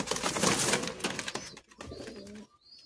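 Madrasi high flying pigeons in a loft cage give close, low cooing mixed with a loud rustling flurry at first, then quieter broken coos and a faint high squeak near the end.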